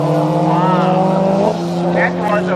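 Golf 7R and Golf GTI launching side by side on a drag strip at Killarney, Cape Town: loud revving engines rising in pitch through gear changes with a brief tire squeal, close and continuous.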